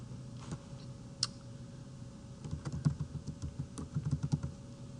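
Typing on a computer keyboard: quiet, close key clicks in irregular bursts, sparse at first and then coming faster and denser, with no talking.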